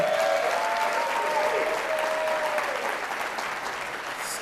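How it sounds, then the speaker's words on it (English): A gala audience gives a round of applause, dense clapping that starts loud and gradually fades over a few seconds, with faint voices mixed in. "Real quick, can we give a round of applause to Molly May right here?"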